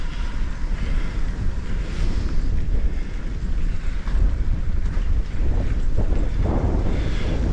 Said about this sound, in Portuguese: Agora começou a ventar.